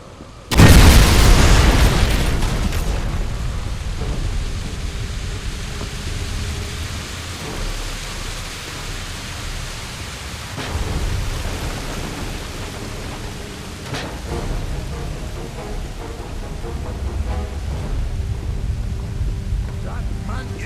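A bomb blows up in the video game Wolfenstein: a loud, booming blast near the start, then a long rumbling roar of debris and echo that slowly fades, with more rumble and combat noise later.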